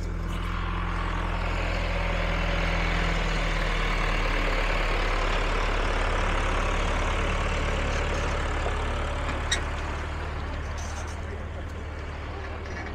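A farm tractor fitted with wooden bench seating idles and pulls a hay ride, a steady low engine rumble continuing throughout under light outdoor noise.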